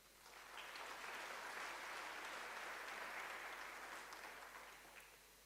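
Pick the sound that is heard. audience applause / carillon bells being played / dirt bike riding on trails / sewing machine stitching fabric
audience applause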